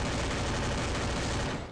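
Dense, continuous gunfire from the shooting video game Free Fire, a sustained loud barrage of overlapping shots with no gaps, fading slightly at the very end.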